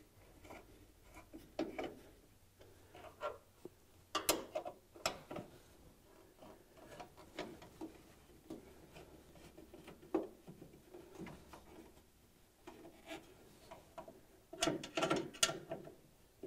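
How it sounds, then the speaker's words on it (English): Screws are tightened on a Mustang headlight trim ring, giving faint, scattered small clicks and ratcheting ticks at an irregular pace in a quiet space. "Now tighten up this trim ring."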